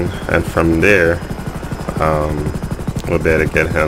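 A Super Puma helicopter in the video game GTA 5 drones with a steady, loud rotor thrum underneath, while someone talks over it throughout.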